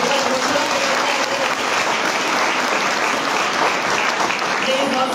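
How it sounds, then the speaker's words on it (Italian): An audience at the Matrona Busa award ceremony in Canosa di Puglia applauds a Guardia di Finanza officer receiving a prize, with steady, loud clapping and some voices audible underneath. "facciamo un applauso"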